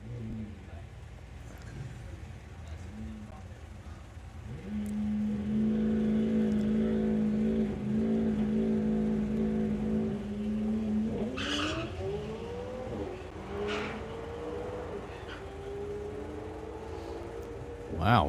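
Doorslammer drag racing cars, a McLaren among them, accelerating hard down the strip: a rising engine roar with tire noise that climbs in pitch and fades into the distance, while commentators talk over a crowd.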